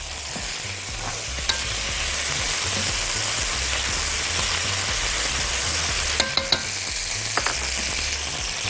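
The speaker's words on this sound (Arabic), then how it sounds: "هنزل مع البصل بالبطاطا واشوح البصل والبطاطا مع بعض، والجزر." Onions, potatoes and carrots sauté in a pan with a steady close sizzle and frying hiss, stirred throughout, with a few brief utensil clicks near the end.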